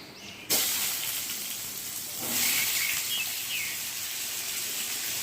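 A loud, steady sizzle starts abruptly as pumpkin hits hot mustard oil, continuing as a dense hiss with no talking.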